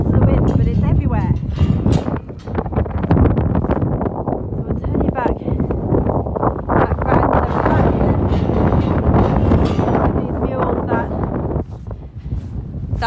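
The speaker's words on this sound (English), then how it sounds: "it's like a wind tunnel. I'm trying to think which way I can get out of the wind, but it's everywhere." Strong wind gusting across an open field at an outdoor sheep lambing site, a loud continuous roar buffeting the microphone throughout, with a voice talking over it.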